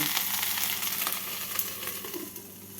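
Vegetables fry in oil in a covered pan over a medium gas flame, giving a soft, even sizzle that stays quiet throughout.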